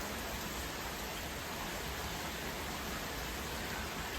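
Heavy rain pours steadily as it comes down harder during a storm with flood warnings, a dense, continuous hiss with no breaks and no voices.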